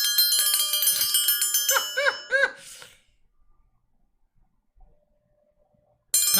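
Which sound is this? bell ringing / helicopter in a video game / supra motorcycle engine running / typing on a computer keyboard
bell ringing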